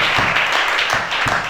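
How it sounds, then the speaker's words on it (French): A church congregation claps together during a worship service, a dense, continuous wash of applause with rhythmic clapping pulses running steadily throughout. "Acclamez chacun."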